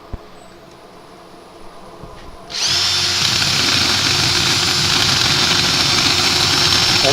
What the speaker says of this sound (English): So I'll slow the lathe down even more.